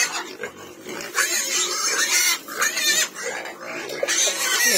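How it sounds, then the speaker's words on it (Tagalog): Pigs grunting and squealing on a farm at feeding time, a dense, continuous chorus of close oinks and snorts with rising squeals throughout, no talking. "Pakain naman tayo ngayon sa mga baboy."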